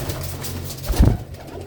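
A single pigeon coos once, close by, a soft throaty burble rising out of a quiet background hum.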